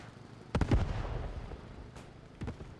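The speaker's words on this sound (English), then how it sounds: "I can hear artillery." Distant artillery fire in the World War II shooter Post Scriptum, during a Market Garden battle: a cluster of muffled booms, then a lone thud and a closing pair of bursts over a steady battlefield rumble.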